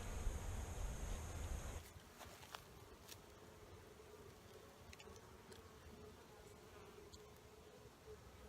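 A dense, steady buzzing of many honey bees at an open hive fills the space close by, with a brief louder rumble at the start and occasional faint clicks.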